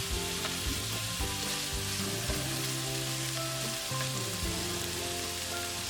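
Chicken pan-sears in a hot pan with a strong, continuous close sizzle and frying crackle, with occasional stirring scrapes and no voices.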